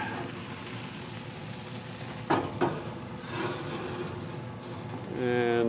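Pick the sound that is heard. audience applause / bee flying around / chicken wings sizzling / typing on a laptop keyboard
chicken wings sizzling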